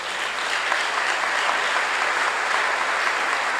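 A church congregation applauding during a sermon, a dense, steady wash of many hands clapping together at full volume, sustained throughout with no voices over it.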